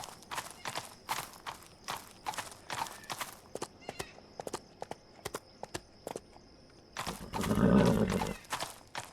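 Hooves clip-clop steadily in a rapid rhythm in a video game, close by, with a horse snorting loudly near the end.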